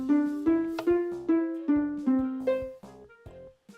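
Minecraft note blocks played through redstone repeaters all set to 4 ticks, heard as a clear, evenly paced sequence of about nine plucked tones with a slow, regular rhythm and no talking.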